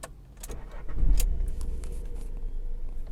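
A Volkswagen Ameo with a 3-cylinder engine starts up: a few clicks and key rattles, then the engine catches with a low surge and settles into a quiet, steady idle, heard close by.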